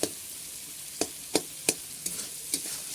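Cumin and spices being stirred and sautéed in a pan while tempering for vegetarian khichuri, with a steady faint sizzle broken by several sharp scrapes of the spoon against the pan, close and with no voices.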